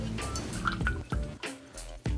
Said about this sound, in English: now we're gonna use homemade peach syrup